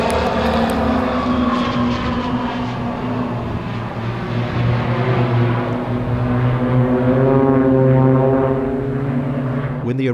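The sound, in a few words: RNZAF Red Checkers CT-4 propeller aircraft flying display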